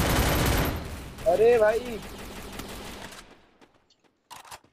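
Rapid bursts of automatic gunfire in the battle royale video game Free Fire crackle loudly for about a second, with someone talking over it briefly before the shooting fades and a few faint clicks follow.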